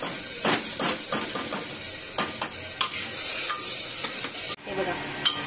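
Finely chopped tomato sautéed with onion in a pan, a continuous hissing sizzle broken by repeated scraping stirs and spatula clacks, with a sharper knock toward the end.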